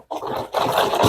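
Cake batter whisked briskly in a bowl, a short burst of close, continuous scraping and swishing with a brief pause between strokes.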